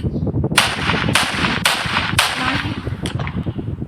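Gunfire from a knockoff mobile version of the GTA 5 video game: four loud, sharp shots spaced about half a second apart, then a fainter pop, over a busy game soundscape.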